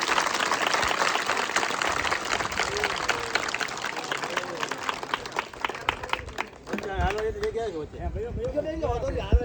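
Crowd applause and clapping welcoming padyatra pilgrims at a flag-hoisting ceremony on the walk from Anjar to Dwarka, a steady dense patter of many hands with voices mixed in and a brief dip before it resumes.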